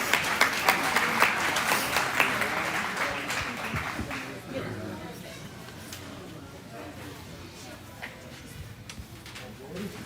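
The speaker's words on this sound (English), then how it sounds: "Let's give all these kiddos a nice round of applause" Audience applause for a class of children at a show, loud and steady for the first few seconds, then thinning into scattered claps with voices murmuring underneath.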